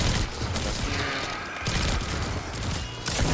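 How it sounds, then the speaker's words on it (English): A rocket launched in a shooter video game, a dense burst of blasts and gunfire-like crackle filling the whole stretch at steady loudness, with a sharper surge near the end. "Shooting a rocket."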